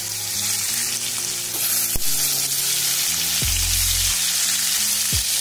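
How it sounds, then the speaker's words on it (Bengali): Eggplant slices fry in oil left over from frying fish, making a loud, constant close-up sizzle with steady tonal notes in the background. "মাছ ভাজা ওই তেলের মধ্যেই আমি যে বেগুনটা কেটে রেখেছিলাম সেটা দিয়ে দিচ্ছি। আগে আমি বেগুনটা ফ্রাই করে নেব।"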